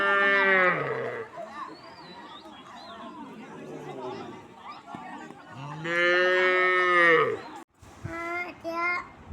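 Cattle moo loudly in long, drawn-out calls while being bathed on a Bihu morning, two strong moos with a shorter one near the end, and people chatter in the background between them.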